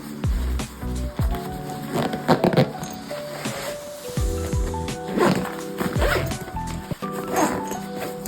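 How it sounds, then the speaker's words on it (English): Zippers on an Ozark Dual Carry Backpack are pulled back and forth in several quick, close, raspy runs, separated by brief handling rustles and bumps. "I do not believe that these zippers are YKK, but they are working pretty smoothly"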